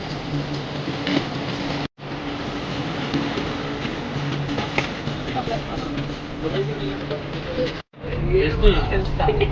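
Inside a Chennai metro train, a continuous low rumble of the carriage rolls along with rattles and clicks, briefly cut twice, while people talk nearby.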